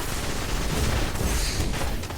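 Sniper rifle fire and other gunshots in a Destiny Trials of Osiris match on the Widow's Court map, heard as dense, loud, overlapping blasts and booms that fill the whole stretch without a pause, with no voices.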